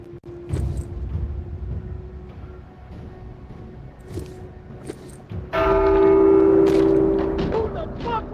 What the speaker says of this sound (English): Who the fuck rang the bell?